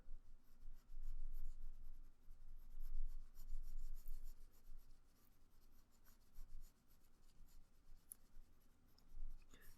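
A pencil shades a dark shadow beneath the lips of a drawing, a faint, close, scratchy rubbing in uneven back-and-forth strokes that continues throughout.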